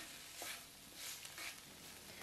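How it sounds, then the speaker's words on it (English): Onions sauté in a pot with a soft, steady sizzle and occasional stirring swishes, faint and close, with no voices. "we're going to saute it for about 2 minutes, just until it caramelizes"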